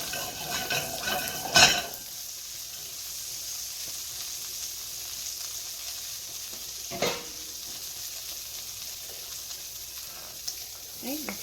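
A pan of shrimp and mushroom marsala sauce sizzles and bubbles steadily, with a sharp clatter of stirring or utensils early on and another brief knock midway, and no speech over it.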